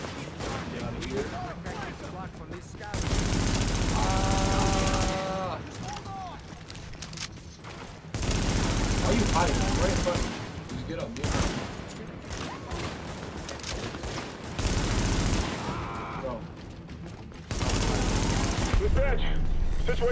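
Heavy automatic gunfire in the video game Tom Clancy's The Division, in several loud, sustained bursts of rapid shots separated by short quieter gaps, with a voice talking in between.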